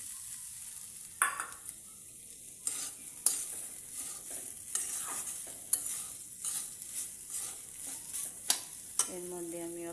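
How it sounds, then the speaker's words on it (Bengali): Fried potato pieces are stirred into a Bengali vegetable curry (niramish ghonto) in a pan, with a steady soft sizzle and repeated spatula scrapes and clicks against the metal at an irregular pace. "এর মধ্যে আমি আলু ছোটো ছোটো করে কেটে ভেজে রেখেছিলাম, এই দেখুন, এগুলোকে দিয়ে দেব।"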